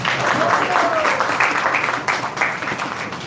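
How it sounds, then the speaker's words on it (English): Participants in a fitness exercise class break into a short burst of clapping, a dense patter of hands with voices mingling underneath, fairly loud and lasting only a few seconds. "Big round of applause for them."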